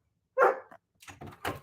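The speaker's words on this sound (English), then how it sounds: "What are you barking at?" A dog barks in a domestic setting: one strong bark, then a short yip, followed after a pause by a few rougher, louder barks, all fairly close with no other sounds.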